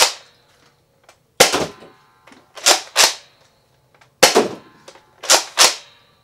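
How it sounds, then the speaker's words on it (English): A Nerf Rival Phantom Corps Helios sniper-style blaster fires several sharp, loud pops, each followed by a brief mechanical clack of the bolt, spaced out with silence between shots. "Let's go ahead and fire this thing. That's got pop, guys."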